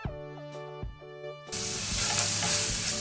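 Chopped onion goes into a hot pan of diced sausage and starts sizzling loudly; the pan is quiet until a steady frying hiss takes over and holds for the rest of the clip, with no talking.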